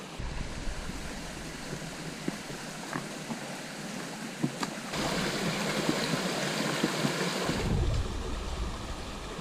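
River water rushes steadily beside a hiking path, a continuous broadband wash that swells louder midway, with gusts of wind buffeting the microphone and a few faint knocks; no one speaks.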